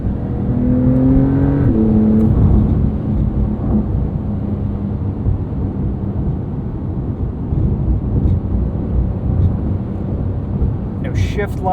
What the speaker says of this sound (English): No shift lights. You just gotta listen to that engine